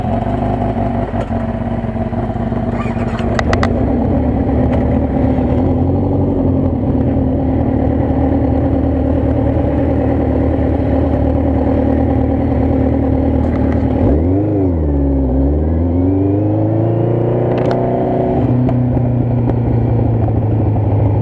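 A small motorbike engine runs close and loud, idling with a steady throb and then revving up and down in a sweeping rise and fall, with some mechanical clatter.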